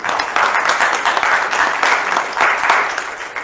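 Poetry reading audience at the SCCC Showcase Theater applauding after a poem, a steady dense wash of clapping from many hands that fills the room without pause.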